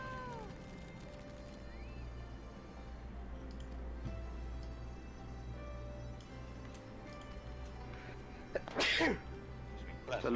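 A single loud, sharp sneeze bursts out near the end, standing clear above a steady low hum and quiet background game sounds during a live game stream.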